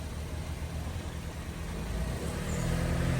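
A car on a quiet street in a small Japanese town, a low rumbling engine building steadily as it draws closer, with no voices.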